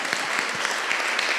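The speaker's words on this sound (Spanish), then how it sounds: "yo no quiero que me aplaudan" Audience applause at a seminar on women's imprisonment and drug law, a brisk, loud burst of many hands clapping in a continuous patter.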